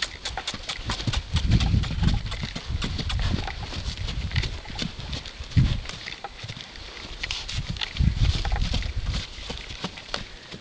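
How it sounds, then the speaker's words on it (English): Steady clip-clop of hooves as a young black colt walks nearby, with rhythmic thuds over a low background rumble. "He's just a young horse."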